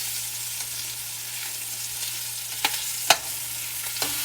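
Turkey drumsticks brown in a pan over medium heat, a quiet even sizzle with a low hum beneath and a few sharp clacks of a utensil against the pan near the end.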